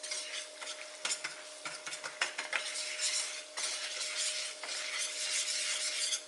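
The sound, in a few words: whisking a flour mixture with a whisk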